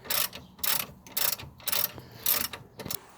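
Ratchet fitted with a 21mm socket undoing a car suspension nut during a CV joint boot replacement, a series of about six loud close clicking bursts in an uneven rhythm, with no talking.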